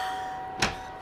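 A single bright electronic chime rings out once over a steady background hum, brief and fairly loud.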